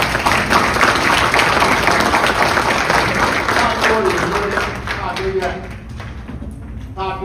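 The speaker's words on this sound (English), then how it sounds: "So please give Mike a big round of applause." An audience at a public safety roundtable claps in a big round of applause, loud and dense at first, then thinning, while voices talk over the end.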